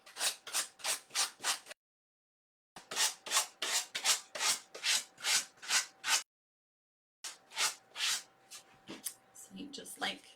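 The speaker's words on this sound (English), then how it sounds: "I'm just sanding down at an angle" A wood edge is hand-sanded at an angle with sandpaper, heard as close, rhythmic rasping strokes in three runs of about six to eight strokes, separated by short pauses.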